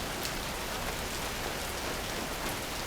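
Soft rain patters overhead onto an opened umbrella on a city pavement, a dense even tapping that stays gentle and close throughout, with no one speaking.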